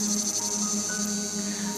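A cicada song rings out as a steady, dense buzzing drone that pulses slightly, filling the short stretch without pause and with no voices.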